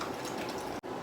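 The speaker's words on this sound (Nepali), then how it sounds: "अलिक पानी लाउँदैछु यहाँ म।" Water splashes steadily into a cooking pan that already holds tomato, a short continuous pour with a brief break near the end.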